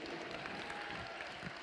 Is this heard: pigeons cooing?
no